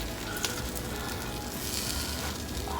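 An egg, bacon and cheese quesadilla sizzles steadily in a hot pan after being flipped, a continuous close crackling hiss with faint pops and no voices.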